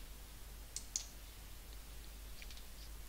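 Two or three faint, sharp computer mouse clicks near the start, then a couple of softer clicks later, in an otherwise quiet room over a low electrical hum.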